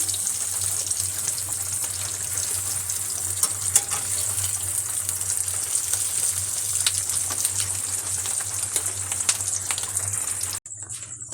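Fish roe fritters (bora) sizzle steadily in a frying pan, a constant crackling hiss with scattered pops that runs for most of the time before cutting off abruptly near the end.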